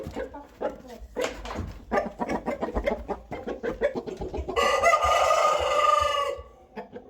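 A rooster clucks in short bursts, then lets out one long, loud crow near the end, close up and clear.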